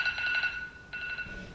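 A mobile phone alarm rings on a weekday school morning, a steady repeating electronic tone pattern that pauses briefly and starts again, fairly faint and alone in a quiet room.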